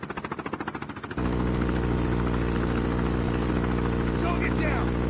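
A chopper gunner helicopter in a shooter video game thumps in with rapid rotor pulses, then gives way to a dense, loud, steady engine roar with faint higher tones near the end.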